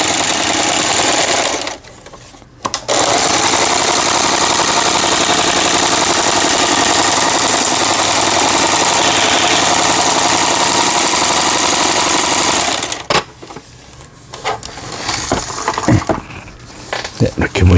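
A repaired Yamata FY900 sewing machine runs a long straight triple stitch, a loud, steady, close mechanical whir that stops briefly, resumes, then breaks into short bursts as someone talks.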